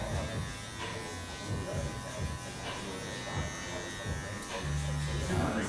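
Electric hair clippers buzz steadily through thick curly hair in a clipper-over-comb cut, a close continuous hum with small changes in pitch as the blade moves, with a voice talking over it.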